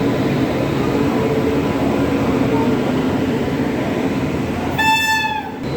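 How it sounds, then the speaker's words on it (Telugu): The Coromandel Express pulls into platform 1 at Rajahmundry station, a loud, steady rumble of rolling coaches close by, topped near the end by a sharp, brief horn blast. "డౌరా నుండి చెన్నై సెంట్రల్ వెళ్ళే కోరమండల్ ఎక్స్ప్రెస్ అయితే వచ్చేసింది ప్లాట్ఫామ్ నెంబర్ 1లోకి"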